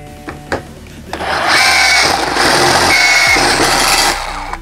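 A Ryobi RSDS18X cordless rotary hammer drills with a sharp, oiled bit, with a few knocks first, then a loud, steady whirring grind for about three seconds before stopping.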